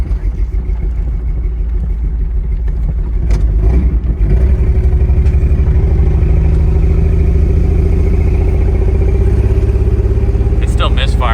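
A Jeep XJ engine with a misfire rumbles loudly as the vehicle lurches through a ditch, uneven and rough, with rattling clatter and a surge of revving partway through; a brief voice comes in near the end.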